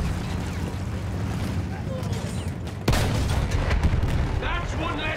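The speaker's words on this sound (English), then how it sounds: "Those field guns are just absolutely devastating." Battlefield 1 field gun artillery fires amid a battle in the mud, a heavy boom cutting through steady rumbling gunfire and explosions, with someone talking over the chaos.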